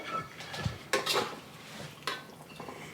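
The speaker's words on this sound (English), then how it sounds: "Give it a stir" Cantonese-style stir-fried dish with sesame oil and ginger being stirred and plated: intermittent metallic scrapes, clinks and clatters of utensils against cookware, close and fairly quiet, with no talking.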